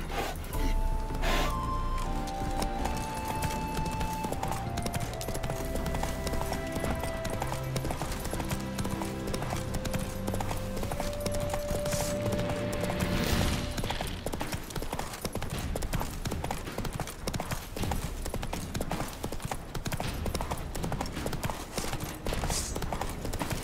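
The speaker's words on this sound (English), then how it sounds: "Run, Roach" Steady rhythmic hoofbeats of the horse Roach galloping in the video game The Witcher 3, continuous and close under a layer of game music.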